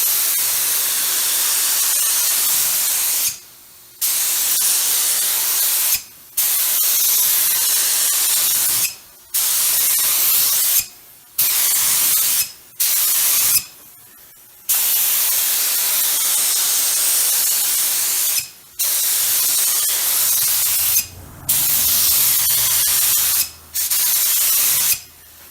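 A spray gun lays a heavy coat of clear coat on a car's paint: about ten long, steady, loud hissing bursts separated by short silent pauses.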